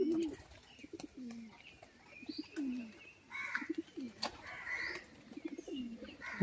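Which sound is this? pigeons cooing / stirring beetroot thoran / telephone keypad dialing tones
pigeons cooing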